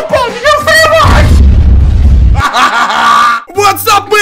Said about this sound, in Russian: Да ты задолбал меня взрывать!